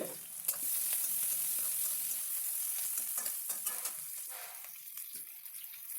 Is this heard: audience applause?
no